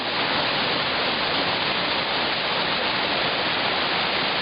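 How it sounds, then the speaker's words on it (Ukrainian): Steady, dense rush of falling water, continuous and fairly loud throughout, like a small waterfall heard up close. "Тут є ще один маленький водоспад."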